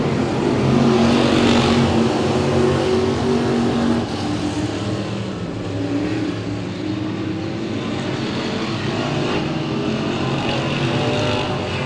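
Race cars at Willamette Speedway roar around the oval in a steady, loud drone of engines with shifting tones, continuous for the whole stretch with no talk over it.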